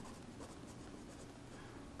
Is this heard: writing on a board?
yes